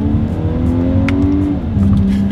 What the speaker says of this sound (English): So right now I am in first. 3, 2, 1, kick it.